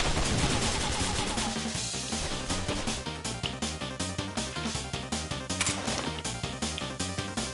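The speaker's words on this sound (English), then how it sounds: "Gunshot!" Rapid gunfire in a video game, dense rhythmic bursts of sharp shots repeating steadily and loud throughout, with no voices.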